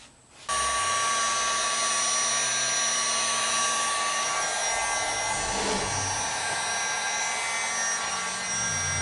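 A heat gun warms a headlight housing during a JDM headlight restoration, giving a loud, steady blowing hiss and hum that starts abruptly and runs without pause, with no talking.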